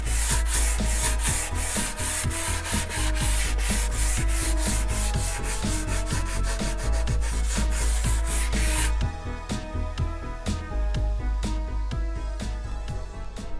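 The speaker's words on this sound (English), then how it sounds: "doing the sanding and the shaping of them" Steady, rapid rubbing strokes of sandpaper on balsa wood wingtips of an RC plane, loud and close, continuing in an even rhythm throughout with no talking.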